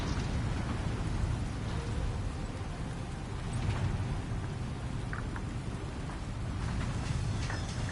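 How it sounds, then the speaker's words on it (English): Steady rain pours down with low rolling thunder rumbling throughout in the game Death Stranding 2, a dense and continuous storm with no voices. "Or is it just because it's raining?"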